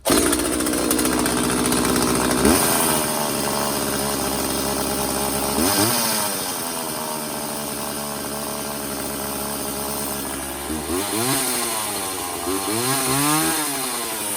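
A McCulloch chainsaw fires up and runs with a loud, steady two-stroke buzz at a high idle, its pitch swelling and sagging in a few throttle blips toward the end, with no voices over it.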